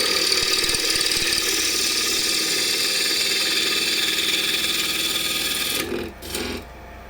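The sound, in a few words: KS Schulte Midi II plus lathe turning a small piece of wood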